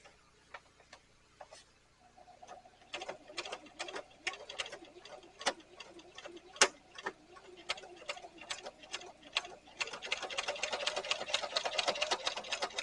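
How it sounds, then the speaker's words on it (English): A sewing machine stitches the edge of a leather tote bag in a double line, its needle ticking in a steady rapid rhythm with brief pauses, close and fairly loud, getting busier toward the end. "put in a double line of stitching"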